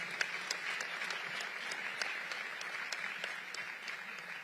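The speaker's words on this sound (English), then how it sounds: "Give the students a round of applause." An audience applauding students at a panel event, a sustained, even round of clapping from many hands, moderately distant and steady throughout.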